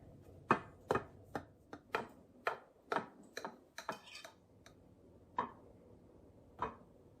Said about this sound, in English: Now we're going to slice the bread with the fresh pumpkin and compare.